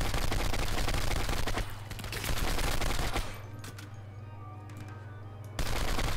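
Rapid bursts of automatic gunfire rattle loudly in Turning Point: Fall of Liberty, a dense barrage that pauses briefly before further sharp shots and a renewed volley over a steady low hum.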